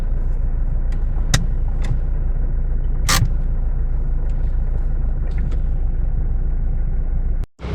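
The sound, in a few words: Toyota Fortuner car engine started and running in garage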